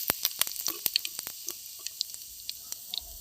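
Whole spices such as fennel, cinnamon, stone flower, star anise and bay leaf dropped into hot oil in a clay pot for a country chicken gravy, giving sharp crackling pops and a light sizzle, close and alone.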